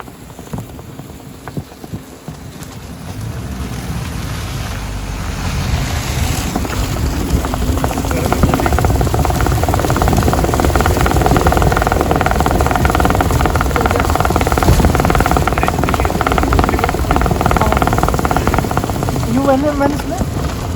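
Maruti Baleno climbing uphill on the highway with all tyres burst and rims damaged, giving a loud, droning, vibrating rumble that builds and stays steady, with someone talking over it.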